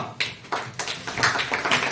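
Students in a maths revision class give a short round of clapping, a few uneven bursts of hands from a small group close by that last about two seconds.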